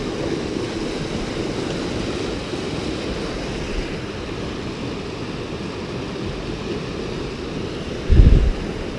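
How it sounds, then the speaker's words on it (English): The Cache La Poudre River, running high with late-summer water along Long Draw Road near Rocky Mountain National Park, gives a steady, broad rushing wash that is mixed with wind noise, with a brief low thump near the end. "This is the Cache La Poudre River, which is carrying a lot of water even at this time of year."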